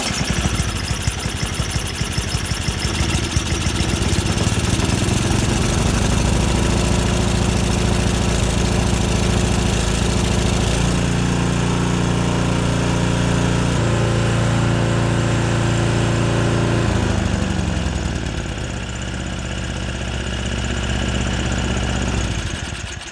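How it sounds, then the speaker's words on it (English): A Yard Machines 5HP snowblower engine runs steadily at close range, warming up and settling into a loud, even idle with a slight shift in pitch partway through and no talk over it. "I just needed to warm up a little bit, and then it runs off choke"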